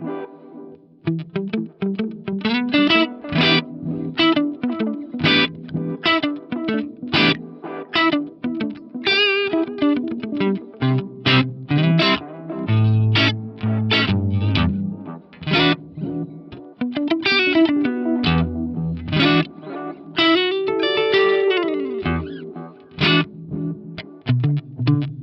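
Lexicon PCM81 effects unit putting a filtered, spacey reverb on dub-style musical material, with dense repeating tails smearing a steady stream of plucked and percussive notes for the whole stretch.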